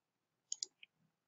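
A few quick, faint mouse clicks in a quiet room, a tight pair followed by a single lighter click.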